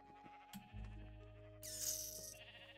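Sheep bleating in a video game, a single wavering bleat rising over a steady background of game music and low droning tones, close and moderately loud, with no talk.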